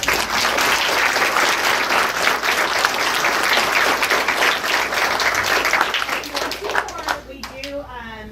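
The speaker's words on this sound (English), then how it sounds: "I do give the parents a big round of applause" Audience at a school board meeting applauds the parents with a sustained burst of dense clapping that runs for several seconds before thinning out, with voices emerging near the end.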